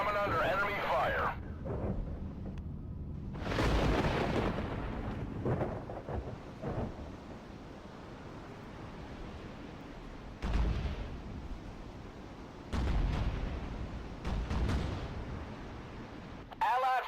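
Battlestations Pacific naval battle: distant booming explosions and rumbling gunfire come in several bursts, mixed with a steady crackling roar, while voices talk intermittently over it.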